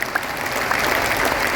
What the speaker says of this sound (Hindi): एक बार विश्व हिंदू परिषद को भी ताली बजा करके धन्यवाद दो।